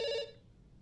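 A telephone ringing in the video game Dr. Langeskov, a bright electronic ring that stops abruptly after a short burst, leaving quiet room tone.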